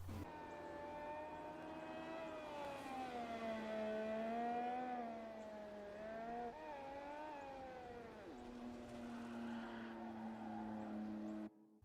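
A Formula One car engine idles and revs in the F1 2018 racing game, a continuous high whining tone sliding up and down in pitch for about twelve seconds, steady and moderately quiet with no speech.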